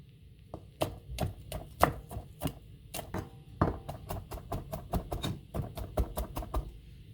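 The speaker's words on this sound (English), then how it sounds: "And just finely chopping up these onions." A knife chops onions finely on a cutting board while shrimp scampi is prepared, giving quick, crisp strikes in uneven bursts, close and fairly quiet with no talk.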